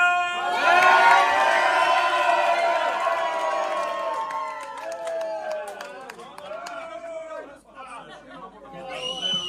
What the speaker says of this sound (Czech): A ještě jeden kurva potlesk!